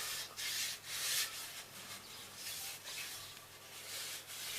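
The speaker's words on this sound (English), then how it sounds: "Give it a nice smooth sanding now." Steady back-and-forth scratchy rasping of sandpaper on wood, in rhythmic strokes, close up with no talking.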